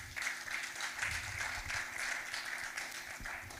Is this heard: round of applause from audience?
yes